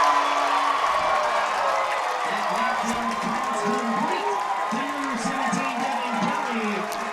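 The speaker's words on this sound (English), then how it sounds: "The crowd is electric tonight." A crowd at a Chapman vs Cal Lutheran college football game cheers after a touchdown, a sustained roar of cheering and applause at a distance, with a commentator talking over it throughout.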